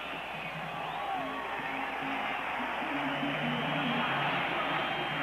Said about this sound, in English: And so the crowd finally has reason to come alive.